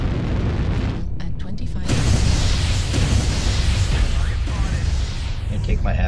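Heavy artillery strike explosions in a competitive multiplayer shooter match, a continuous low rumbling barrage of booms lasting several seconds with a burst near the start, loud and dense with players' voices faintly mixed in.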